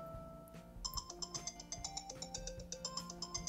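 A bright built-in iPhone XS Max ringtone melody plays alone, repeating a quick rhythmic pattern of chiming notes at a steady, moderate volume.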